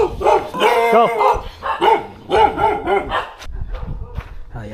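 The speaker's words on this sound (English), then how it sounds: "Of course, there's a dog." Dog barks in quick bursts at a quiet, empty house in Cambodia, loud and fairly close, with someone speaking briefly over and between the barks.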